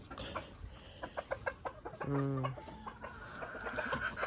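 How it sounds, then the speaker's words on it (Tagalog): Chickens cluck nearby at a rural provincial home in the Philippines, in short bursts, one hen giving a drawn-out call, with a steady outdoor hum behind them. "Ayan, may mga manok."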